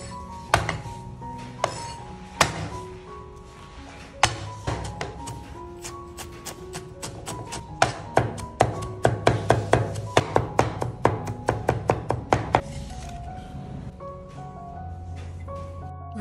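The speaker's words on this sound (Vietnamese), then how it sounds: "Với phần hành tím còn lại thì mình băm nhuyễn ra." Repeated knife strikes on a cutting board mincing shallots, irregular at first and then a rapid run of chopping, with light clinks and some background hum.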